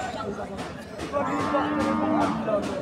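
Small cows and heifers at the Alamdanga cattle market: a long, drawn-out moo rises over a steady murmur of nearby people talking and crowd chatter, with shorter lowing sounds around it.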